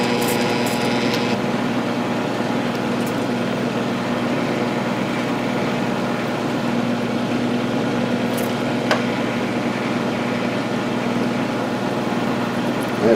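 A quarter-inch center cutting end mill cuts a bolt hole in aluminum, giving a steady, continuous machining whine and hum with a faint tick near the end, heard alone without talk.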